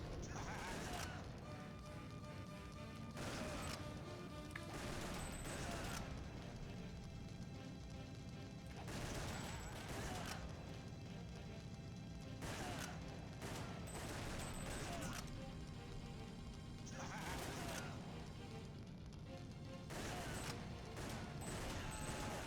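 Rapid bursts of gunfire from the Time Crisis arcade shooting game, dense volleys repeating in clusters of a few seconds each over continuous game noise, loud and close, with no talking.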